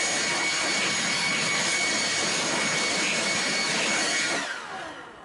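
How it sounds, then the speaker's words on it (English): A small job site blower running at a steady high roaring whoosh, loud and close, then spinning down near the end. "One thing this little job site blower is good for."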